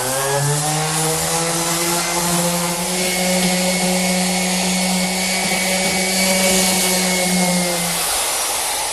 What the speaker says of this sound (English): Now the next step of the process is done with the random orbit sander.